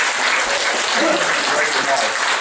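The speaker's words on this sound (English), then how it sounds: "let's give a big round of applause to Senator Tavares again" A crowd applauds with a dense, steady wash of clapping, loud and sustained, with a few voices mixed in.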